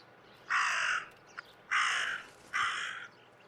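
A crow caws three times in the video game Martha Is Dead, harsh drawn-out calls spaced about a second apart over a faint, quiet background, with a small click between the first two.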